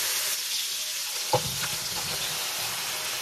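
Pork hits a hot pan for ginataang langka with tomato, setting off a steady, crackling sizzle, plus a sharp clack of a utensil partway through.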